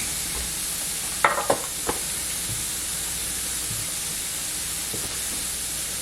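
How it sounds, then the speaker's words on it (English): Vegetables for a vegan fajita pie tossed into a hot dry pan with no oil, a steady hiss of sizzling broken by a few scraping stirs near the start, no one speaking. "let's dump in all of our veg. I got it on a hot pan, as you could hear."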